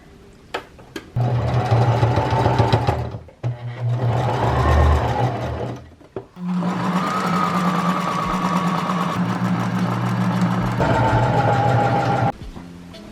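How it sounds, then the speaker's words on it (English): A sewing machine top-stitches a men's shirt being remade into a co-ord set, running in several long, steady whirring bursts with brief pauses between them, close and loud. "I'm going to do a top stitch because it looks better"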